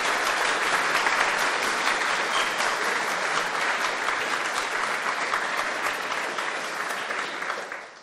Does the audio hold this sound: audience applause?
yes